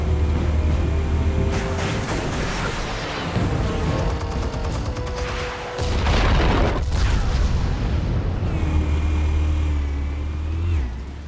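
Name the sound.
explosives detonating in a Batman video game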